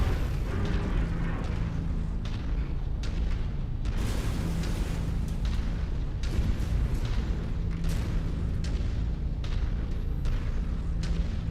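AC2 autocannon burst fire in MechWarrior 5 on a snowy map, with repeated sharp bursts and explosions at an uneven rhythm over a steady mechanical rumble.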